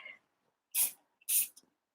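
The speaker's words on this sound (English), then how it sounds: "maybe use a little bit of spray on there" Two short, sharp hissing bursts of hairspray from an aerosol can, close and distinct, separated by a brief pause.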